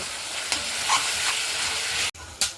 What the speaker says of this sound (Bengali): এখানে ক্যাপসিকাম কেটে রেখেছি সেগুলো দিয়ে দিচ্ছি দিয়ে আমি ভালো করে কষিয়ে নেব